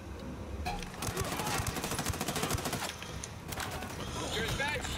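Submachine gun fire in the Ghost Recon Wildlands video game, rapid repeated bursts of shots at close to mid distance, broken by short pauses, with talk layered over parts of it.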